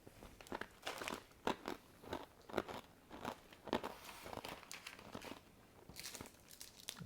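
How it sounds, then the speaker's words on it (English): Crunching and chewing of MRE food, including corn nuggets, right up against the microphone: loud, irregular bursts of crisp crackling bites repeating steadily with no talk. "Crunch in the microphone"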